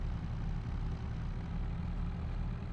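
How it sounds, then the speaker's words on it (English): Motorbike engines on a main road outside a house in North Norfolk, heard as a continuous low, heavy rumble held steady throughout, with no voices. "sound of motorbike engines opening up along the straight bit of road in front of my house is just thunderous every single time"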